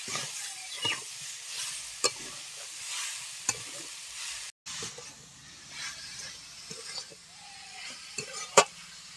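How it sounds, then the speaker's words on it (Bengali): Grated coconut being stirred with sugar in a pan, soft scraping and gentle sizzling strokes with sharp clicks of the spoon against the pan, fairly quiet and close. "ভালো করে নারকেলটা মিশিয়ে নেব চিনির সঙ্গে"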